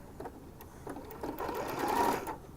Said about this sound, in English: Whenever you create a new path of sewing, you always want to close your stitch